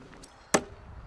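Thrown knife striking a wooden target with a single sharp thunk, close and crisp, in a quiet outdoor setting with no talk.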